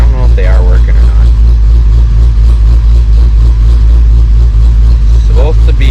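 A Dodge Challenger Hellcat's engine and exhaust roar continuously and very loud up close, a heavy steady rumble with a brief rev near the start, while someone talks over it.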